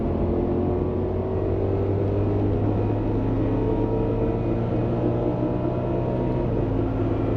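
A car engine pulling hard in fourth gear, a steady loud low drone heard from inside the cabin as it runs on, with a faintly rising tone and road rumble underneath, no talking.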